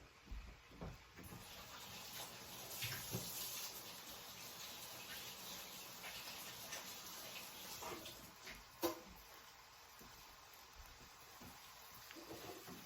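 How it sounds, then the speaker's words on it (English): Water runs from a kitchen tap as hands are washed before cooking street tacos: a faint, steady rushing hiss lasting throughout, with a few soft splashes and knocks and no talking. "Let me wash my hands."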